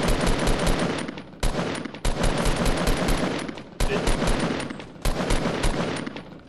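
Rapid automatic gunfire in a shooter video game, bursts of close, loud shots repeating across the clip with brief gaps between volleys, no talk over it.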